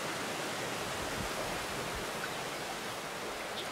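Steady broadband rush of waterfalls and streams spilling down the mountains of the Waterberg, a continuous dense hiss with no pauses, moderately loud and unbroken by voices.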